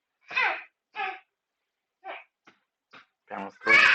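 A young daughter babbles close beside a man working on plexi panels, several short bursts of high-pitched, wordless vocal sounds separated by brief quiet gaps.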